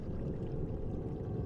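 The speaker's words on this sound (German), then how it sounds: "Was plätschert denn hier so?" Water splashes and trickles in the video game Delirious, a steady low murmuring pour with no voices, fairly quiet.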